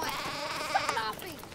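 Sheep bleat nearby, with a wavering, quavering call and a second overlapping bleat that trails off toward the end, heard clearly over soft outdoor background noise.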